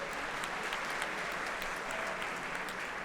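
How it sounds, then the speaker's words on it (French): A room of trainees at an awards event applauds themselves in a steady, even wash of clapping, moderately distant and unbroken for the whole stretch. "je pense que vous pouvez tous vous applaudir"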